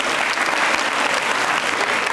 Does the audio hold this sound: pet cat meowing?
no